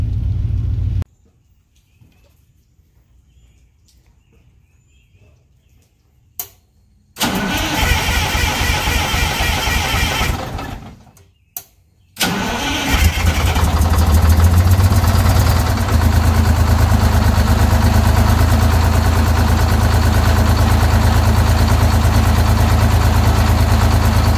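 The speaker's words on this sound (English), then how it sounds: "It's going to lead me to believe that we have a misfire on this side of the motor by the way it's shaking" An Eagle bus engine idles with a misfire, shaking as it runs: a loud, rough low rumble that drops out twice with brief gaps, then returns stronger and steady to the end, heard up close.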